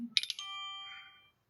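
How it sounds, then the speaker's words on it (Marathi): A short chiming phone message notification tone rings out, a quick run of bright ascending notes that rings on for about a second before fading, with no talk over it. "आला कोणातरी मेसेज, कोण आहे?"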